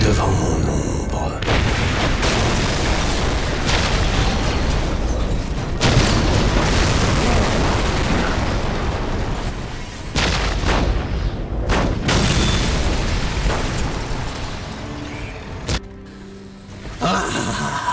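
Heavy booming cannon shots and explosions keep firing in a dense battle in Warhammer 40,000: Dawn of War – Dark Crusade, loud and near, with French voices speaking between the blasts.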